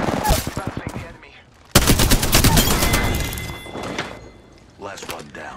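Gunfire in a battle royale video game: a close burst of rapid shots at the start, then a louder dense stretch of sustained automatic fire that tapers off, with a few later bursts, under a narrating voice.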